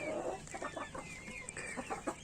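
Several chickens clucking nearby in quick, irregular bursts, soft and close, with no voices over them.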